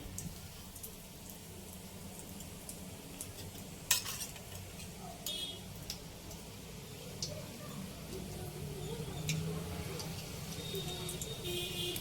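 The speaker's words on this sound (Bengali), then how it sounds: "ভাজা তেলেতেই" Cardamom, cloves and cinnamon fry in oil already used to fry pointed gourd, making a faint, steady sizzle broken by a few sharp clinks of a utensil against the pan.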